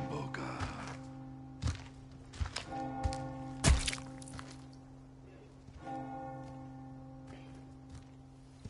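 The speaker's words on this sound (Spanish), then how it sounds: "La campana." A church bell tolls in the Resident Evil 4 Remake video game, several resonant strikes ringing out and sustaining over a quiet, sparse soundscape punctuated by dull thunks and footstep-like knocks, with faint talking at times.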